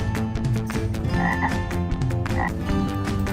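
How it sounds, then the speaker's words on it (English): A frog croaks repeatedly in quick, loud, close calls that fill the short stretch with a rhythmic throaty rattle, with no voices. "Green frog."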